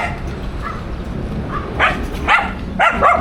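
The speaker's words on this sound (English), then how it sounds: "There's a puppy right there. See a little puppy. A little tiny puppy right there." Small puppy outdoors on a walk, giving a few high, thin yips and whimpering cries that grow more frequent toward the end, heard at moderate distance over steady background noise.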